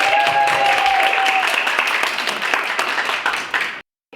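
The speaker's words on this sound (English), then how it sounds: "let's give them a huge round of applause for writing books" Applause from a conference audience at a marketing workshop for women entrepreneurs, a loud burst of clapping that runs steadily and then cuts off abruptly near the end.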